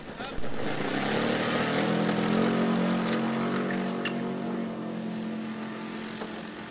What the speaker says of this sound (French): Monsieur Honda au décollage avec son biplan